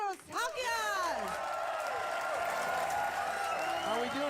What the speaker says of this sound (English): Clap it up for Stavros Halkias!